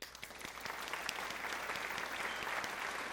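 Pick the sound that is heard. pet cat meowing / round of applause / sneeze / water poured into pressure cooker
round of applause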